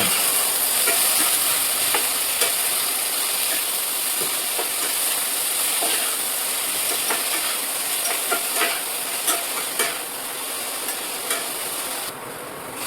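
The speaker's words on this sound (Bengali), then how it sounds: "এবার আমি এর মধ্যে স্বাদ মতো লবণ ও পরিমাণ মতো হলুদ দিয়ে দেব এবং এটা আমি দেড় থেকে দু মিনিটের জন্য একটু নাড়াচাড়া করে নেব" Bottle gourd peels with salt and turmeric are stirred in a hot pan, giving a steady, close sizzling hiss with small intermittent scraping ticks from the stirring, continuous throughout with no talk.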